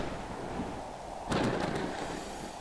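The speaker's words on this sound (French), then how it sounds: "J'espère que vous avez pas peur de l'orage." Thunder from a storm in a natural disaster survival video game: a sudden crackling boom bursts out over a steady, noisy rushing background, then fades back into the wash of sound.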